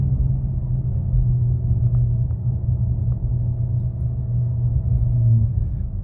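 A Dodge Challenger fitted with NGK plugs and Ripp coil packs gives a deep, steady engine rumble, heard from inside the car as it pulls away, with no clear gear changes or tire squeal.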